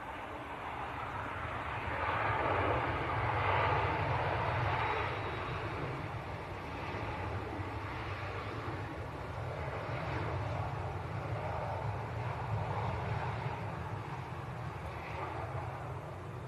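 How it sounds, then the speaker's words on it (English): A Jet2 Boeing 737-300 airliner arriving from Prague at Leeds Bradford Airport, its engines a steady, fairly distant broadband roar that swells slightly and holds for the whole stretch, with no talk over it. "Here we are then, Jet 2 from Prague."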